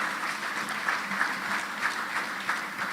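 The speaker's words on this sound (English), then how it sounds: "Let's give them a round of applause" Soft, distant applause from an agricultural business conference audience after a session, a low steady patter of hands heard faintly throughout.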